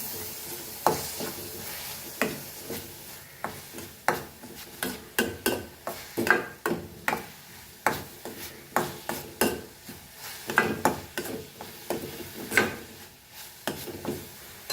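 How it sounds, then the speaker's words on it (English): Dried prawns with Kashmiri chili powder are stirred and fried for Goan kismoor, a spoon scraping the pan in repeated irregular strokes over a soft sizzle, close and clear, with no talking. "Now we will mix this nicely. Fry this nicely."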